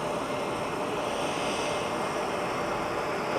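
A Delta airliner taking off at Minneapolis–St. Paul airport in winter gives a steady, broad roar of jet engines that holds evenly throughout, loud and continuous, with no voices.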